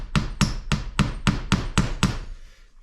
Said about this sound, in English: I tried to hit them with a hammer